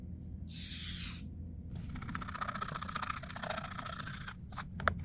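A quick hiss of accelerator sprayed onto a thin epoxy crack fill on a tray, one short burst near the mic, followed by faint scraping and clicking handling noises.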